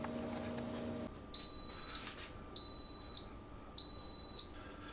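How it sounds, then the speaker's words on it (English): An Instant Pot pressure cooker gives three evenly spaced, high electronic beeps when done, each lasting about a second, clear against a quiet room hum. "You may have caught just a couple of those last beeps letting you know that it's done."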